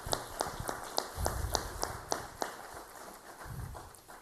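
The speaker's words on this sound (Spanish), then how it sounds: "Les pedimos un aplauso para recibirlo." Audience at an open class on human rights claps to welcome a guest, a sparse, fairly faint clapping with distinct individual claps heard at a steady rhythm over low room noise.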